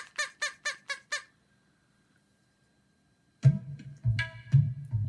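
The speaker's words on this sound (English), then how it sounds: "she heard the happy sound of baby crows" Five quick, shrill squawks from young crows, a silent pause, then a louder jumble of harsh squawking calls.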